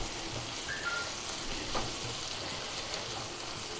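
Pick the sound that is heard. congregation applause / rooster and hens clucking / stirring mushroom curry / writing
stirring mushroom curry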